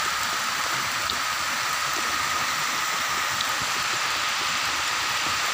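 Steady rain pours down outdoors during a ball game, a dense, even hiss of drops on surfaces that holds unchanged and fairly close throughout, with no voices.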